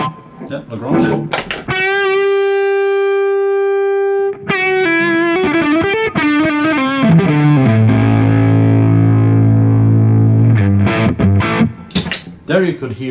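A loud electric guitar through a La Grange overdrive pedal rings out on a sustained note, then plays a descending line and settles on a long, heavy, flubby low note.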